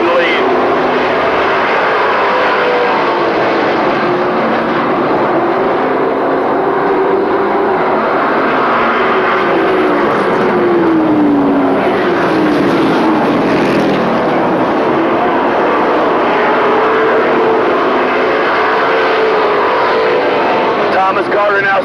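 Racing pickup trucks roar steadily around an oval track during a Pro Truck race, a continuous loud engine drone with shifting pitch as they pass, under constant commentary.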